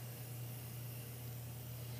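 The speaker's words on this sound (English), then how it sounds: "make sure that you don't get too close up to your cake while spraying" A steady, faint hiss of a spray can spraying color onto a cake runs continuously over a low constant hum, with no pauses or voices.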